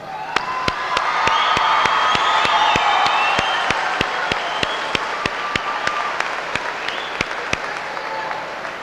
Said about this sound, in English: let's again give them a nice warm round of applause